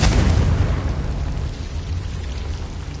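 Confringo spell explosion in the video game Hogwarts Legacy: one loud, close, deep blast that rumbles and slowly fades over about three seconds.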